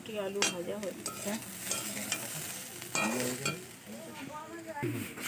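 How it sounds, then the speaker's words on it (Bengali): Peas and potatoes frying in a pan, a moderate sizzle running under nearby voices and household chatter, with occasional clinks of utensils. "মটরশুঁটি আলু ভাজা হচ্ছে"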